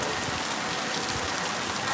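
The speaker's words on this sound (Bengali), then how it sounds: "এই বৃষ্টিটা খুব বেশি প্রয়োজন ছিল অবশ্যই" Rain falls steadily on a newly paved road, a dense even hiss of drops close by with no voices.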